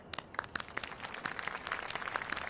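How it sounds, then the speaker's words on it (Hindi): Applause for the players of a game on a Hindi-dubbed Turkish drama set, a light, scattered round of clapping with distinct individual claps, fairly faint and steady for a couple of seconds. "हमारे इस खेल के प्लेयर्स के लिए एक बार फिर तालियां।"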